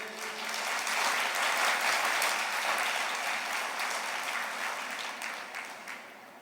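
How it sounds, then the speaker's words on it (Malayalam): A congregation at a Christian retreat claps hands together in sustained, dense applause that stays loud and then slowly tapers off, with no voices over it. "ഒന്നുകൂടെ കൈയുയർത്തി കൈയടിച്ചേ."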